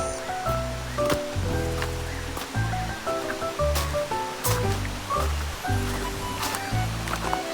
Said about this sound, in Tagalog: naririnig mo na ba ang lagaspas ng tubig?